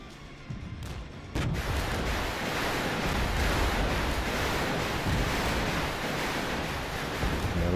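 Grad rocket artillery from the game Regiments pounding a cluster of mortar positions, a sustained, dense roar of impacts and rumbling blasts swelling after a softer start and running on without pause.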